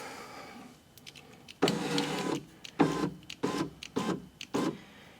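An electric window motor in a 2007-2011 BMW 328i, with a newly fitted motor and regulator, whirs in several short, close bursts with brief pauses between them as the glass moves.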